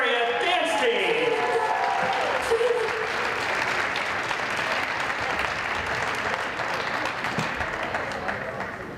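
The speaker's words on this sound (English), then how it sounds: "how about a round of applause for the Shaler area dance team?" Sustained applause and crowd cheering for the Shaler Area dance team at a girls basketball senior night game, loud and steady throughout, with a brief tonal announcement at the start.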